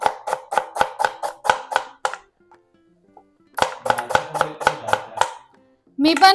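A knife chops onions finely on a board in a steady rapid series of crisp close taps, pausing briefly before a second run of chops, with a voice speaking at the end.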